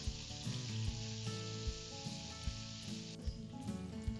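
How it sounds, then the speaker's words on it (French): Butter and sugar melt in a frying pan with a steady, close sizzle and a few light stirring taps, over a faint background hum. No one speaks. "Dans une poêle, mettez le beurre, laissez-le fondre. Ajoutez le sucre."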